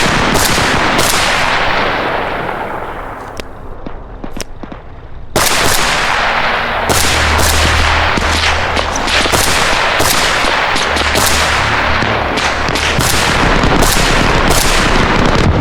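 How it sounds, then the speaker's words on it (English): Dense, continuous gunfire from the Arma Reforger video game, rapid rifle and machine-gun bursts mixed with heavier distant booms, a short lull midway before the shooting resumes loud and sustained. "So I started putting shots downrange before closing the gap, trying my best to control the situation."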